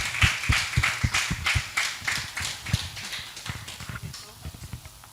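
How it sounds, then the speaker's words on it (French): Audience applause welcoming a storyteller, heard as a run of regular rhythmic claps that gradually fade, with voices talking over them. "Sous vos applaudissements, s'il vous plaît, nous allons le recevoir ici"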